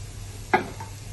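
Kashmiri chilli is stirred in a pan while sautéing for a Kerala-style crab roast, giving one short scrape and sizzle over a low, steady background hum.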